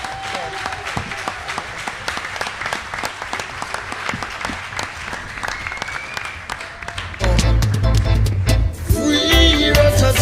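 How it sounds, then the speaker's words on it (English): Dense applause from a reggae festival crowd at Reggae University, Rototom, steady and close for about seven seconds, then a louder surge of clapping with music and voices joining near the end. "please give one last round of applause for our special guests"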